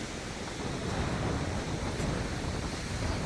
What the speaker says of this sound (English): it's windy seafront